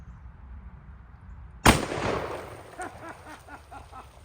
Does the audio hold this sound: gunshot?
yes